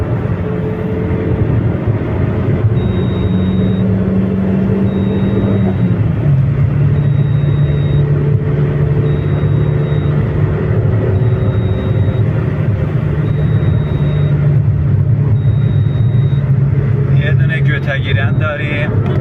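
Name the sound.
SAIPA Quick car engine accelerating at full throttle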